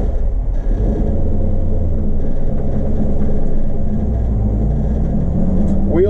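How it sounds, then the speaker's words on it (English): A 1952 Ford F1 classic pickup truck rumbles along with its engine droning at a steady low pitch, heard loud and close from inside the cab with no clear speech. "by far the nicest classic Ford pickup truck I've ever driven."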